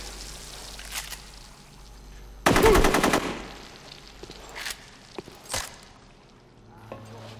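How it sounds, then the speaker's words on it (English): A loud, rapid burst of machine-gun fire in the video game Rogue Warrior, lasting about a second, followed by scattered lighter shots and impacts against a quiet background. "Они в нас стреляют!"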